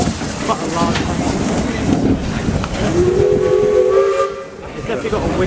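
Steam locomotive whistle sounding as a sustained, loud, steady tone over hissing steam and rail noise, then cutting off, with voices around it.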